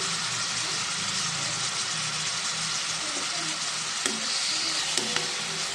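Onions frying in a pan with turmeric and salt, giving a steady, close sizzle throughout with a few sharp clicks from the pan and stirring.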